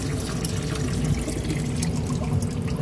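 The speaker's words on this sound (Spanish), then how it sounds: "Vamos a echarle más agua. Con esta manguera." Water pours steadily from a hose into a container that is nearly full, a continuous splashing gush with dripping and trickling texture, close and even throughout.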